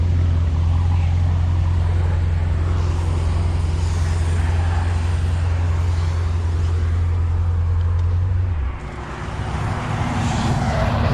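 A car with a straight pipe exhaust idles loud and close, a steady deep rumble that cuts off near the end, leaving quieter background noise.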